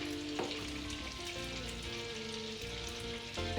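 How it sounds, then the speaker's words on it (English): Pork browning in butter in a pan, a steady sizzle running throughout under a bed of continuous music, with a soft clatter near the start and end. "we're going to brown it off in butter"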